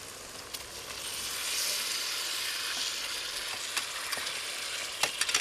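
Cubes of bean curd sizzle in sauce in a NutriWok, a steady close hiss of frying with occasional soft clicks and stirring scrapes, no voices.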